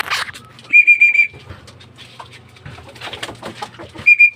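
Racing pigeons returning home during a training flight in Gapan, Nueva Ecija, give soft low cooing throughout, with a few bright whistle-like tones near and at the end, and faint background noise in between.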